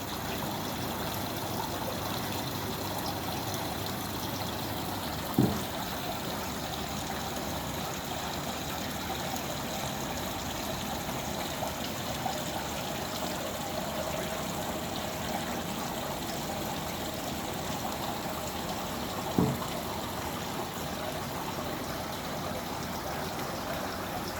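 A stream flows in a continuous, even wash of running water in a quiet outdoor spot, with two faint clicks breaking the steady flow.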